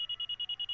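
A rapid electronic alarm beeps about eight times in under a second, an even stream of short high-pitched pulses played alone as an alarm sound choice in the video game Nancy Drew: Warnings at Waverly Academy.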